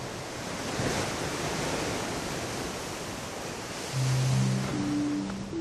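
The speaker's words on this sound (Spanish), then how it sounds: "El mar golpea con fuerza contra la acantilada costa volcánica de El Golfo" Sea waves crash against the volcanic cliff coast at El Golfo in a steady, dense roar of surf, with a faint tonal sound near the end.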